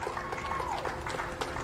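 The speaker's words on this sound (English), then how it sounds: "Small crowd, but big cheers." A small crowd gathered for NASA astronauts Bob Behnken and Doug Hurley ahead of a SpaceX launch cheers and claps, a steady mid-level patter of applause and shouts with a faint whistle-like tone gliding through.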